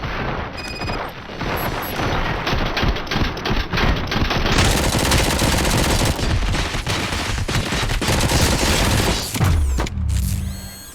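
Rapid sustained gunfire in the video game Robocop Rogue City, loud dense volleys and mechanical clatter running continuously for about ten seconds, then fading into a brief electronic tail.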